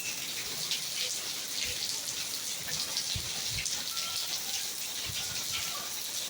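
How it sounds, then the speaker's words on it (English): Steady rain pours down outdoors during an early evening summer thunderstorm in Northern Nevada, a dense continuous hiss with scattered drop impacts, fairly close and alone without talk. "you can see the rain's coming down out here"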